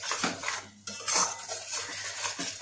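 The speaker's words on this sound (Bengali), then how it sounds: "এবারে ভালো করে মশলাটাকে এবারে আমরা কম আঁচে কষাতে থাকবো" A spoon scrapes and clinks against a pan while spice paste is stirred over low heat for a fish dish, giving a few sharp metallic knocks and scrapes close up.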